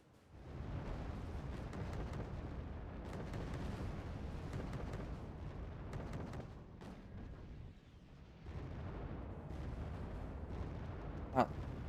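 Light mortar fire in Wargame Red Dragon, with a steady rumble of distant artillery-like blasts and battle noise throughout, a brief lull near the end, and one sharp crack just before the close.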